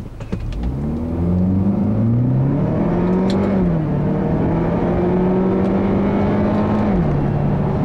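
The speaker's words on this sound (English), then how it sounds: "acceleration is a little soft initially. You do have to wait for the boost to build, as there is a little bit of turbo lag." A 2015 Buick Regal GS turbocharged car accelerates with a loud, steady engine drone that rises in pitch through the gears, with a shift dip partway through. No talking.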